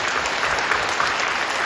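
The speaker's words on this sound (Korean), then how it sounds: "박수 한번 하실까요?" A church congregation claps together at an early-morning Holy Week prayer service, a dense, steady wash of applause running unbroken for a short stretch.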